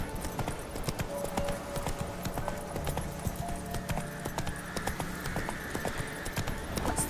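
Roach, a horse in The Witcher 3: Wild Hunt, gallops with a steady, fast clip-clop of hooves, close and loud, over a continuous rumbling ambience for the whole stretch.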